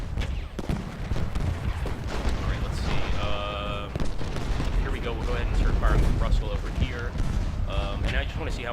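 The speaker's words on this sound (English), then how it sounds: "We'll go ahead and start firing with Russell" Cannon fire from Civil War artillery in the strategy game Ultimate General: Gettysburg, booming thuds in a dense ongoing barrage with crackling musketry, someone talking over the battle.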